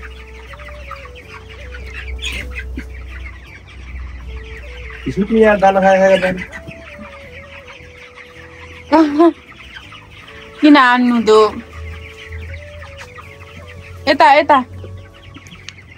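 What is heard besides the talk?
chickens clucking on a poultry farm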